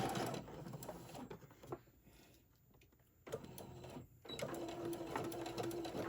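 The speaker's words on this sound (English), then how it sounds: "And I'm just going to sew a seam up this side." A sewing machine stitches a seam up the side of a fabric teddy bear's leg in short, quiet bursts of motor whirr separated by pauses, the longest near the middle.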